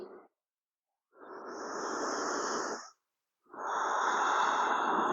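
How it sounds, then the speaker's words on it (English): Slow, deep breaths during a calm yoga practice: a soft hiss of inhalation, a pause, then another long airy breath, close and quiet with no talking. "Breathing in nice and deep into the belly."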